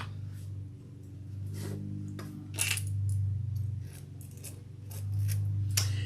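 Scissors snip through leather in a series of short, crisp cuts with small pauses between them, quiet and close against a low steady hum.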